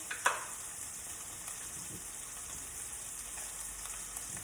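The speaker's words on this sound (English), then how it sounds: "You can hear the pork chops are sizzling." Pork chops sizzle steadily in a pan, an even hissing crackle that holds for the whole stretch with one small pop near the start, close and with no talk.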